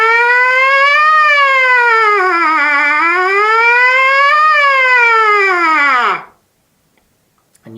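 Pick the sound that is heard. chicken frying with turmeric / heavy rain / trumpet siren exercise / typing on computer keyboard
trumpet siren exercise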